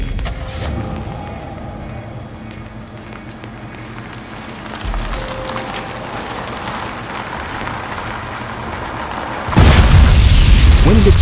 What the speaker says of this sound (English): When an explosion impacts a vehicle